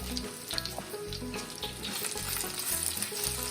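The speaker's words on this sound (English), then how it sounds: "Once it's all fried well, I'm going to add just a teaspoon of grated ginger." Steady, close sizzle of grated ginger frying in hot oil with dried chillies and coriander in a pan for rava upma, a continuous crackling hiss with no talking.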